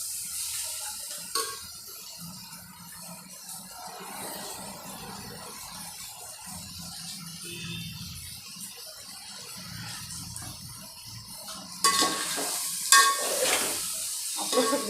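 Tomatoes are stirred and sautéed in a pan for egg biryani, a soft ongoing sizzle with spoon scrapes that turn louder and busier near the end.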